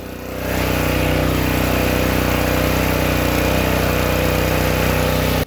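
A gas pressure washer engine revs up and runs at a steady, loud drone with a constant mechanical hum and no pauses.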